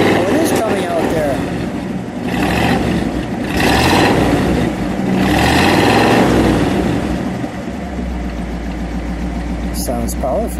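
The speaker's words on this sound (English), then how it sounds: "Can't give it a rev, would you?" A 1956 Ford Fairlane Sunliner convertible's engine revs up close, rising in a couple of broad swells over a steady running rumble, with people talking over it.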